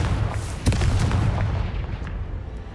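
A Confringo blasting spell goes off in the Hogwarts Legacy video game as a sharp explosive burst with a booming low rumble over dense ongoing game noise, followed by a few smaller pops.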